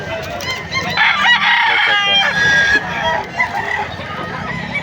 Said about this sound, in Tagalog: Ang dami pagpipilian dyan, magaganda manok.